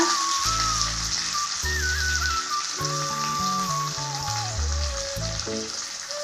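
Onions sauté in a pan with ginger, garlic and curry leaves, giving a steady, close hiss of frying throughout with no talking.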